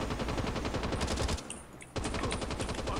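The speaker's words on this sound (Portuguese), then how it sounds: "Eu não sei de onde que eu tô tomando tiro." Rapid automatic gunfire crackles in Call of Duty Mobile, a dense continuous burst that pauses briefly for about half a second and then resumes just as fast and loud.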